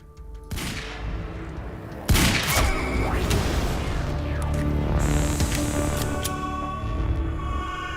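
Loud, dense gunfire from a Remedy action video game, a sustained barrage of shots and booms that thickens sharply after a brief lead-in and continues without letup.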